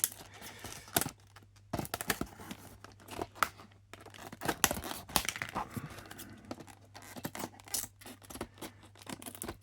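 A diecast model car box, a Suburban K2500 Scottsdale, is cut open at close range, giving irregular snips, scrapes and crinkling cardboard and plastic in uneven bursts, with no speech.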